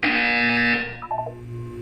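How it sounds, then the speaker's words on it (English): An electronic buzzer from the video game Portal 2 sounds loud and steady for about a second, then breaks into a few shorter wavering tones before a faint hum remains; no voices. "When you hear the buzzer, look up at the ceiling."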